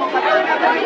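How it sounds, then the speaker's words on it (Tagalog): Dense crowd shouting and chattering at a Philippine political rally for Vice President Sara Duterte, a continuous roar of many voices at steady loudness with no single voice standing out. "Umpisa pa lang, sigawan na."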